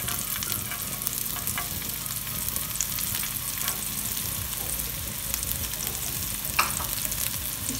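Diced red onions cook in a hot pan, giving a continuous even sizzle with light scraping and stirring clicks over the top, close and steady throughout.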